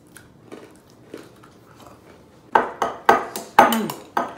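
Crunchy homemade food is bitten and chewed up close, about five loud crisp crunches in a steady rhythm after a few softer quiet mouth sounds at the start.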